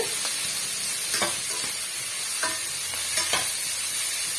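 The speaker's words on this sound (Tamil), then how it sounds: "வெங்காயம் முழுமையாக வதங்கி வரட்டும்" Onions and chopped small amaranth greens (siru keerai) sautéing for a South Indian poriyal: a soft steady sizzle broken by several distinct spoon scrapes and stirs against the pan, heard up close with no voices.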